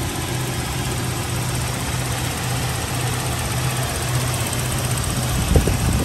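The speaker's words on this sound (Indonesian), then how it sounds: "yang suara tik-tik-tik itu injektornya ini" A 2003 Toyota Kijang Kapsul LGX 1.8 engine idles steadily with a fine, fast fuel injector ticking running through the hum, close by, with a brief knock near the end.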